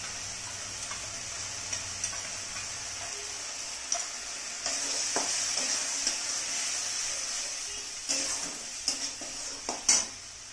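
A spice paste of cumin, coriander, turmeric and salt mixed with water goes into a frying mushroom curry. A soft steady sizzle swells louder partway through, with scattered spoon scrapes and clinks against the pan.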